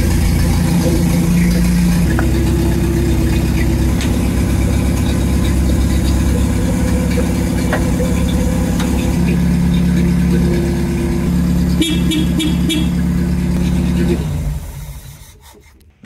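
Renault R2087 4x4 truck engine under restoration, running with a loud, steady low diesel-like rumble throughout, a slight shift in tone midway and faint clicks, before the sound cuts off and fades in the last two seconds.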